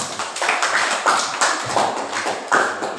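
Clapping in a classroom after a push-up demonstration during a teaching practice session, with several bursts of hand claps that rise and fall in uneven waves.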